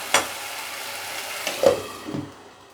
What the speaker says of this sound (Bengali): এবার সব মশলা দিয়ে ভাজা ভাজা করব, যতক্ষণ না তেল ছাড়তে না আরম্ভ করে ততক্ষণ ভাজতে হবে।